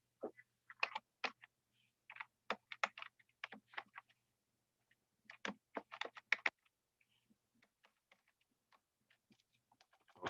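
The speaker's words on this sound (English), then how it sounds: "I'm typing in here." Computer keyboard typing in short irregular bursts of crisp key clicks with pauses between, close and clear, with a faint low hum underneath and no voices.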